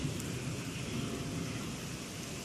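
Thunder rumbling through a heavy rainstorm, with a steady dense wash of rain and a low continuous roll underneath, no voices.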